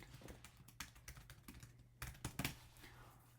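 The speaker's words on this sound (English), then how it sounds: "Let's type that in." Quiet typing on a computer keyboard, an irregular run of soft close key clicks with a few sharper taps, and no talk over it.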